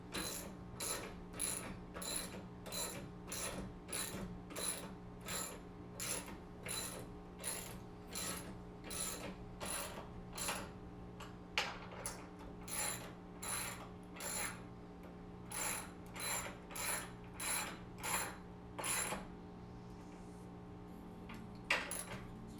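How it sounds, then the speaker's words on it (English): A ratchet set turns a fastener while a Godzilla Premium pinball machine is being assembled, with a long run of quick, regular clicking ratchet strokes close up over a steady background hum. A short pause comes near the middle. "make sure you turn your ratchet set the right way"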